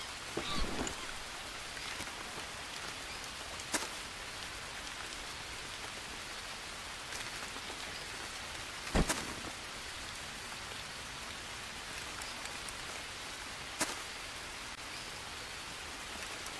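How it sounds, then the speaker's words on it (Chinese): Rain falls steadily in a forest, a continuous soft patter on leaves and ground with a few sharper drips and knocks standing out, no voices. "下雨，只是下雨而已了"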